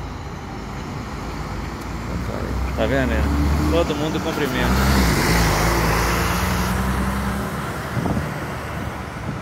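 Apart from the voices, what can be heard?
buses leaving the Tietê bus terminal, São Paulo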